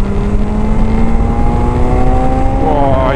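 A BMW S1000XR or Suzuki GSX-S1000GX motorcycle engine revs up loudly and continuously. Its pitch climbs steadily, rising sharply toward the end as the bike accelerates hard.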